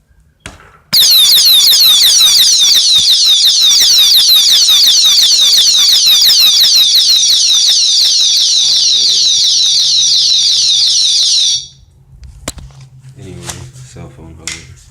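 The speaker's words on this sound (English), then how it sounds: "Got your security alarm right there." A bicycle security alarm on a 7-speed bike blares loud and steady for about eleven seconds, a dense, rapidly warbling electronic shriek that cuts off abruptly, followed by faint rustling.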